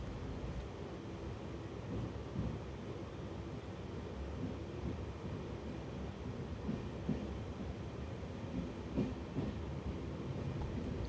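A passenger train rolls slowly into platform 3 at Kochuveli (Trivandrum North) station at night, a steady low rumble of wheels on rails with faint intermittent clanks throughout, heard from inside an unreserved second-class coach.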